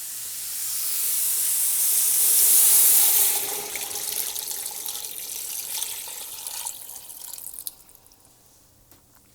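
Water pours in a hissing stream into a pot holding a chicken carcass for bone broth, loud at first, then tapering and softening before stopping with a few faint drips.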